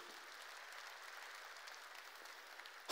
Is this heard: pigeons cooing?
no